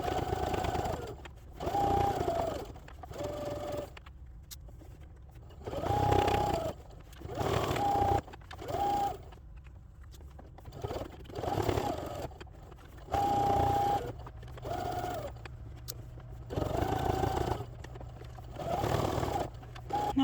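A sewing machine stitches fabric pieces for an eight-point holiday star in bursts of about a second each, with short pauses between runs and a steady low hum throughout, and no talking.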